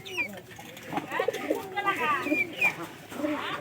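A pigeon kept indoors coos in soft, low repeated phrases close by, mixed with other faint bird calls and a voice talking nearby.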